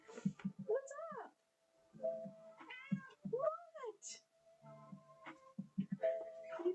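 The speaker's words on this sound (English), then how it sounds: "She's literally purring so loud." A pet cat purrs loudly in low, steady rhythmic pulses, close by, broken up by several drawn-out meows, while someone talks to her at intervals.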